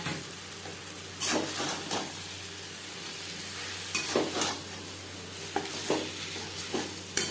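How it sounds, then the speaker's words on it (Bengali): Katla fish roe stirred with masala, onion and tomato in a hot pan, a low sizzle broken by several scraping stirs and clinks at irregular intervals. "মশলা ও পেঁয়াজ টমেটোর সাথে মাছের ডিম বেশ ভালো করে মিক্সড করে দেবো"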